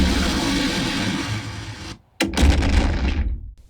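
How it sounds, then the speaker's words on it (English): A thunderous Godzilla atomic-blast explosion from a movie in a Dolby Atmos demo plays loud and dense. It cuts to brief silence, then a fresh massive detonation swells and fades out. "when Godzilla unleashes his atomic blast"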